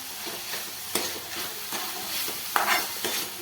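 Roughly chopped green chillies stir-fried in a pan, a spatula scraping in repeated strokes over a gentle sizzle, close up, with one sharper clink of metal partway through and no talking.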